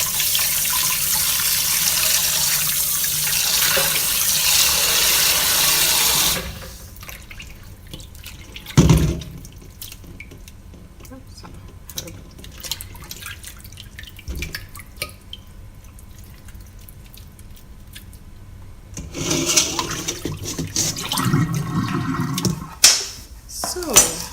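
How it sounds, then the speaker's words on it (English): Tap water runs steadily into a kitchen sink as butter is washed, giving a loud, continuous rush that stops, then leaves scattered drips and clinks before the flow returns toward the end, with some talking over it. "So here my butter will be washed, because if I wouldn't do that it would taste kind of watery, so I'm washing it out of it."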